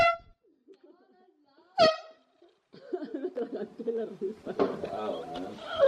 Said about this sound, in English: you honk the horn